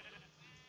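A sheep in Minecraft gives a single short bleat, brief and fairly soft, with no talk over it.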